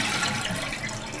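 A household toilet flushes with its water supply shut off, a brief loud rush of draining water close by with no refill following.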